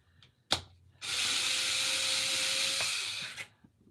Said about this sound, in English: I do need to drill a little hole because I am turning them into an ornament